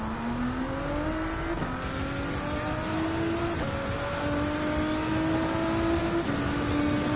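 A race car engine screams continuously during a Gran Turismo 7 World Touring Car 800 race at Circuit de Spa-Francorchamps, loud and close, pitch climbing through gears with brief drops at each shift, no voices.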